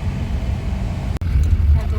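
A car driving on a road, with a steady low engine and road rumble throughout, a brief dropout partway, and voices faintly present.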